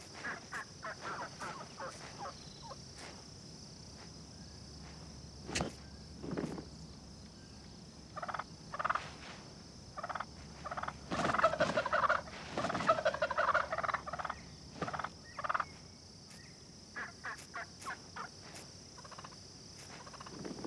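Wild turkeys gobble outdoors in a series of rattling, throaty bursts, some overlapping, moderately distant and scattered across the stretch, with insect chirping and a steady high hum in the background.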